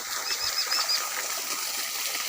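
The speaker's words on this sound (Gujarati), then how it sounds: "બોર તો ચાલુ કર્યો છે પણ ટોકું ઉભરાય છે" Water gushes from a running borewell and overflows a tank, making a steady hissing splash that is moderately loud and continuous, with a faint chirp briefly on top early on.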